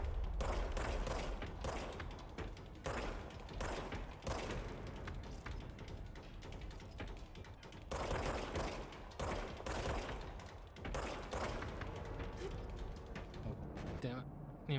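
Gunfire in the video game Control, rapid volleys of sharp shots and thumping impacts in quick irregular bursts, fairly faint, with a player's voice talking over the action.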